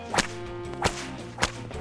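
A whip cracks three times at roughly even intervals, each sharp snap loud and close, with a steady hum underneath, set on a snowy mountainside to test for an avalanche.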